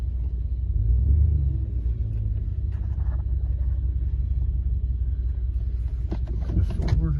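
A Dodge Dakota pickup backing up in reverse, its engine giving a low, steady rumble close by with faint mechanical clunks near the end and no talk.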